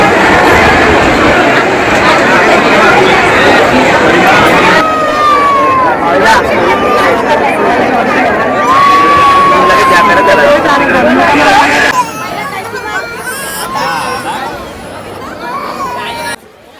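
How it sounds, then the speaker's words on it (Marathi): A crowd of pilgrims babbles loudly at Ekvira temple. Many voices blend into a dense hubbub and a rising and falling siren-like wail cuts through the middle stretch, then the noise thins out near the end. "गर्दी खूप आहे."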